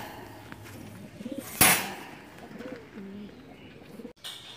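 Young pigeons coo softly in a loft, with low burbling calls that are close and steady, and a sharp rustle or clatter partway through.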